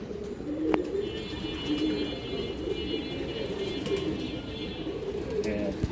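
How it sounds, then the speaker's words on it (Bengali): Pigeons at a breeder's loft, including a large female, coo softly in low repeated phrases beneath someone talking, with faint chirps and a sharp click in the background. "একটা সিঙ্গেল মাদি কৌতার আছে এই যে দেখেন এটা বড় সাইজের একটা মাদি খুব সুন্দর একটা কৌতার"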